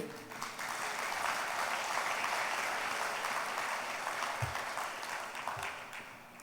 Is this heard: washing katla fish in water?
no